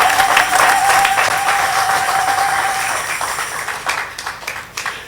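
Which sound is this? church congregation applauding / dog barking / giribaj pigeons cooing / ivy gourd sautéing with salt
church congregation applauding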